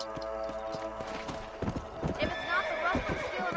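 A stuck horse in Red Dead Redemption whinnies loudly while its hooves clatter and scrape irregularly, with background game music throughout.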